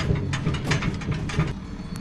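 Coffin rattling in the back of a vehicle in a driving video game, a steady mechanical clattering and knocking with repeated ratchet-like clicks over a low engine hum, fairly close and continuous.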